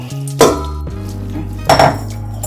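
Pieces of beef, about 1.5 kg, are tipped into a bowl to be marinated for a Kerala-style beef fry. Two clattering bumps of meat and metal sound over a steady background hum.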